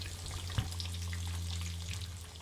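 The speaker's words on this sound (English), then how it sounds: "start deep frying" Tempura vegetables, including sweet potato and pumpkin slices, deep fry in oil with a quiet, steady crackling sizzle over a low hum, marked by one soft knock near the start.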